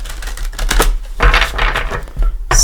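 A deck of tarot cards is shuffled in loud, close, rapid riffling bursts, with brief pauses between the rustling passes and no talk over it.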